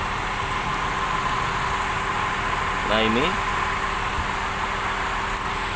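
A 2017 Daihatsu Xenia X manual idles with a steady, even engine hum that runs throughout while a person speaks briefly over it.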